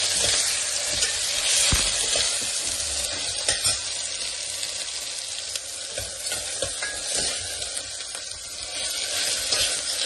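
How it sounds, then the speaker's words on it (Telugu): Onions and ginger-garlic paste fry in a pan for an ivy gourd curry, a steady loud sizzle with scraping stirs running throughout, no voices. "ఇప్పుడు మిక్స్ చేసుకోవాలి మంచిగా."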